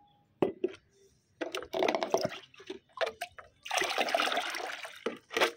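A pest-control spray liquid poured over hibiscus plants: intermittent splashes and trickles in short bursts, with a longer steady pour near the end, close by.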